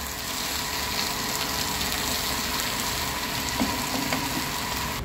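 Potatoes and peas sautéing in a pan, a steady soft sizzle and hiss that holds even and close throughout, with a faint scrape or two and no voices.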